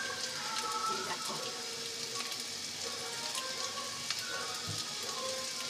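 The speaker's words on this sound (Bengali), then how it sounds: "তো মশলাটা একটু ভাজা হোক," Spices frying in a pan for a vegetarian dal, a faint continuous sizzle and crackle with occasional small pops and clinks, heard without talk.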